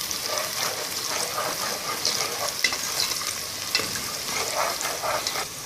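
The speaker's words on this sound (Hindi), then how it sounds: "अब इसमें हम चॉप्ड जिंजर, गार्लिक और ग्रीन चिलीज ऐड कर देंगे। इसको एक बार अच्छे से मिक्स कर लें।" Onions, chopped ginger, garlic and green chilies are stirred in a hot pan for aloo bhujia. A continuous sizzle runs throughout, with irregular scraping strokes of the spoon close by. No speech.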